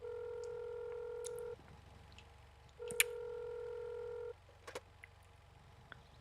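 An unanswered phone call rings back in the Mon Bazou video game: two long, steady electronic ring tones separated by a pause of similar length, followed by faint clicks and quiet.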